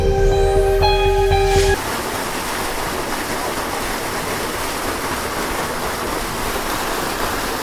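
Iruppam Kuzhi Waterfalls in Amboori, near Trivandrum, roar as a steady broadband wash of falling water that follows a brief tonal sound at the start.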